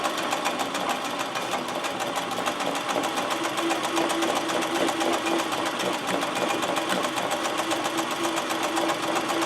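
Sewing machine with a size 14 needle, 135x5 type, stitching embroidery in a hoop, running as a steady, loud, fast continuous whir with rapid needle clatter throughout.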